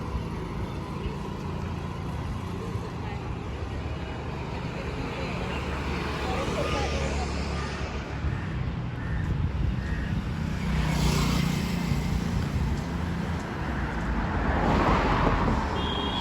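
A scooter ridden by a learner on the fourth day of lessons gives a steady, moderately loud engine and road hum that swells slightly toward the end, with voices in the background.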